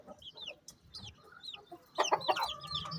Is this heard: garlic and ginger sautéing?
no